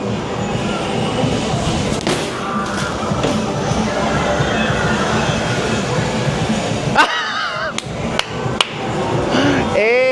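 Hard open-hand slaps land on an arcade strength-test machine at a theme park. Several sharp, loud smacks come near the end over busy, noisy arcade background sound.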